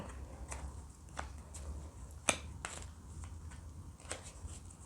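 Round tarot cards stuck together are handled close up, giving soft papery shuffles, light taps and one sharper snap over a quiet hum.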